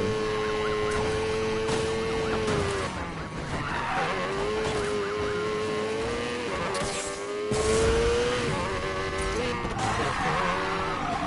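A Corvette races at about 200 miles per hour in the video game Need for Speed Payback, its engine holding a steady high whine while tires skid and squeal throughout, loud and close.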